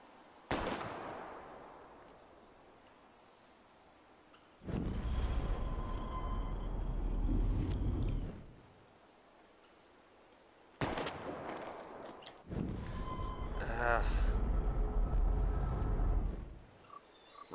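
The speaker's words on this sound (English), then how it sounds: "We're gonna shoot all these bottles without wasting a single bullet" Gunshots aimed at glass bottles in the video game Life Is Strange, two loud broadband bursts with ringing tails, about six seconds apart, separated by quieter stretches where voices are faintly heard.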